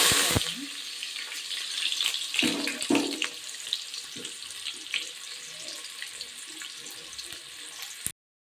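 Onions fry in hot oil for a bitter gourd gojju, giving a steady close sizzle with a few spoon-and-pan clatters early on and no talk.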